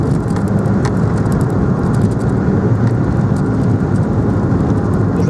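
A 2000 Ford Puma 1.7 Zetec-S with a 16-valve 123 bhp engine accelerates toward 60 mph on an open country road, its engine, tyre roar and wind noise forming a loud, steady, continuous rumble heard close from inside the cabin.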